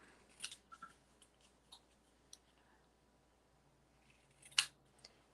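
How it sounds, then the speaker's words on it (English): Scissors cutting paper cardstock at an angle for a handmade Christmas card: a few soft snips and clicks scattered across a quiet room, with one sharper snip near the end, close but faint. "So what I like to do is go ahead and angle cut this first."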